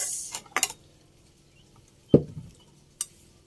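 A spoon or whisk knocks and scrapes against a bowl while milk powder is mixed into ice cream ingredients for guyabano ice cream; a few sharp, separate clinks with quiet gaps between them, close by.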